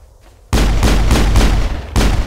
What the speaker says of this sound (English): oh, you're gonna fire rockets at me